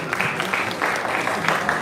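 A crowd at a founder's weekend event applauds briefly, a short burst of clapping with a few faint voices mixed in.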